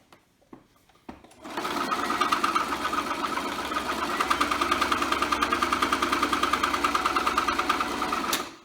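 A sewing machine stitches fabric for a face mask, starting after a few light clicks and then running in a close, steady, rapid mechanical chatter for about seven seconds.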